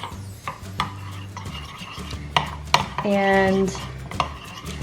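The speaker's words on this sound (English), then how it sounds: "So I'm just going to give it a little stirring." Brownie cookie batter stirred in a hot bowl, with clinks and scrapes of a utensil against the bowl, a short ringing metallic tone in the middle, and a brief voice at the start.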